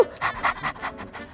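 A dog pants in quick, rhythmic breaths, about six close, steady pulses in a row with no other sound.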